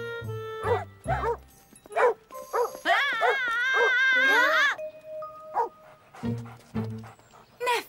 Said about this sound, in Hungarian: Neked két kutyád van?